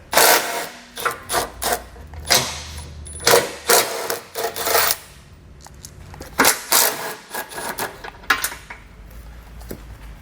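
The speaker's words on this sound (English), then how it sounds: "you're going to grab a 17mm socket, maybe a short extension to get past everything, and we'll pull all those out" A 17mm socket wrench with a short extension takes out the bumper nuts on a 2020 Subaru Ascent, making close, irregular bursts of ratcheting and metallic clinks with short pauses between them.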